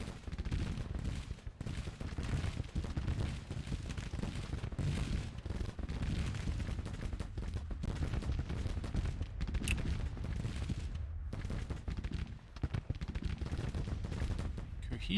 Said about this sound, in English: You guys are shooting.